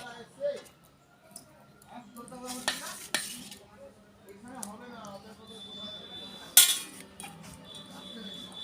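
Rice is served onto a plate in a home kitchen, with soft scrapes and clinks of a spoon against dishes and a sharp clink near the end, under ongoing speech.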